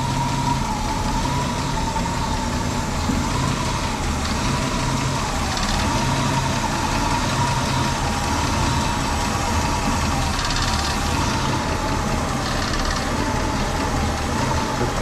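Old Ford Mustang 289 cubic-inch V8 idling low at about 600 rpm during ignition tuning, a steady close rumble with a faint uneven lope that lasts throughout, with no speech over it.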